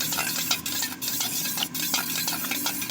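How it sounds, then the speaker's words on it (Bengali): A spoon stirs and whisks sour yogurt (curd) briskly in a bowl while preparing a chicken dish, giving a continuous wet scraping and clinking at close range with a steady rhythm and no talking. "এবারে একটা চামচের সাহায্যে খুব ভালো করে ফেটিয়ে নেব।"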